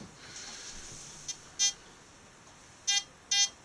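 A metal detector turned all the way up gives short electronic beeps as it picks up coins, a faint chirp then three clear bleeps spaced apart over a quiet background, no talk.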